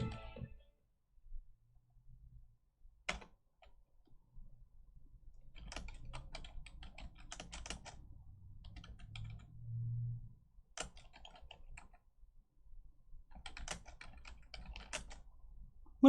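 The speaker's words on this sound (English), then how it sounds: "I am typing in links." Typing on a computer keyboard: scattered bursts of quick key clicks with pauses between, fairly close and quiet, alongside a faint low hum in the room.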